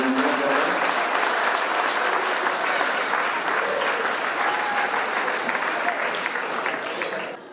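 Loud, steady audience applause from a large crowd at a Hindi news event honoring a celebrated young woman, sustained throughout and tapering slightly at the end.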